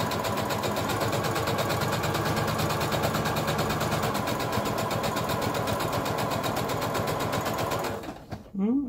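A sewing machine stitches a fabric dog bandana, running as a steady fast mechanical chatter for about eight seconds before stopping, followed by a brief voice.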